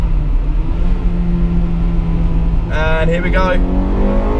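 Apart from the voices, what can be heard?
Honda Integra Type R engine revving into VTEC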